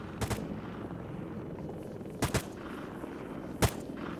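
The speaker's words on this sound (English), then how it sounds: "The silencers actually sound good now as well with JSRS" Suppressed gunfire in Arma 3 with the JSRS sound mod: three short bursts of two or three sharp cracks each, spaced over a few seconds against a low rumbling background.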